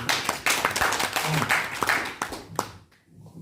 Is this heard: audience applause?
yes